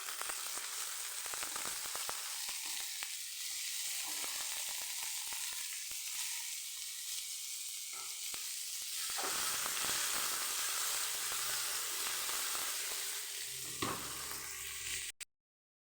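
Tomatoes fry in a pan for tomato bath, giving a loud, steady hiss and sizzle with some stirring, close up, before the sound cuts off abruptly at the end.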